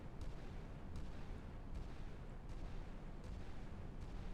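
Naval guns fire in the Sea Power warship game during the Battle of Baltim: a steady series of booming shots, roughly one every three-quarters of a second, over a constant low rumble.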